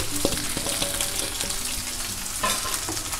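Stuffed okra (bharli bhendi) fries in hot oil on a stove with a loud, dense, continuous sizzle and crackle, plus a few faint clinks of a utensil stirring.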